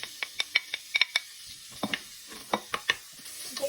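Garlic and onion sautéing in a pot, a soft sizzle under frequent sharp clinks and scrapes of a utensil stirring against the pot, close and irregular, no talking.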